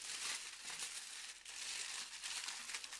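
Aluminium foil crinkles and crumples continuously and close up as beetroots are wrapped in it, with dense rustling bursts and no talk.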